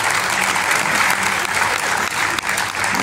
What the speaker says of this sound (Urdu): تالیاں بجائیے ان کے لیے